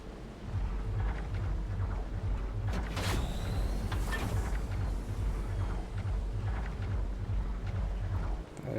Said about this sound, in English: That is the sound of drum sand.